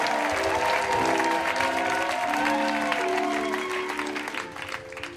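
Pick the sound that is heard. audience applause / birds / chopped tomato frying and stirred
audience applause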